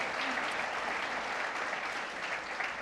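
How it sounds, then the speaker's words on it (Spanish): A church congregation applauds steadily during a Spanish-language sermon service, a moderately quiet, even wash of clapping with no voices over it. "Démosle un aplauso de agradecimiento."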